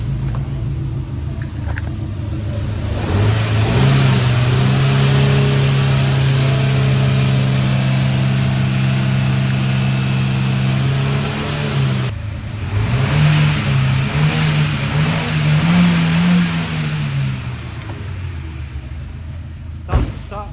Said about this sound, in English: Give this thing a rev.